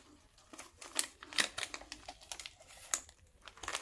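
Scissors snip and crinkle around a plastic succulent pot, giving close, irregular cutting and crackling sounds that are quiet overall.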